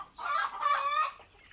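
Broiler chickens in a poultry shed, a brief burst of close, busy clucking and chirping rising twice in quick succession before fading.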